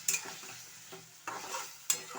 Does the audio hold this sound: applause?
no